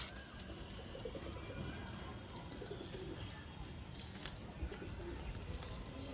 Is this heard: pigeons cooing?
yes